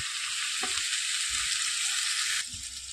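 A spoonful of garlic paste fries in oil for omelette curry, giving a steady close sizzle with a few soft spoon scrapes as it is stirred, the hiss dropping a little near the end; nobody speaks.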